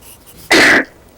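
A single short, explosive burst from a person, loud and close, lasting about a third of a second and standing alone between quiet stretches with no talk around it; it reads as a sneeze but could be a cough or throat clear.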